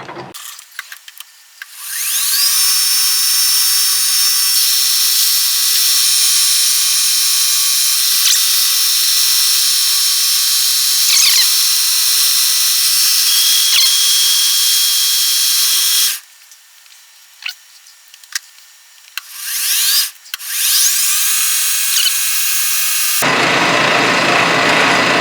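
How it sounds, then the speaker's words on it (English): Metal lathe turning down the shank of a tap to a quarter inch, a steady high-pitched whining spin with ringing tones, loud and close, cutting out briefly partway through before spinning up again, with no talk. "Now I'm going to turn the shank down to 1/4 inch"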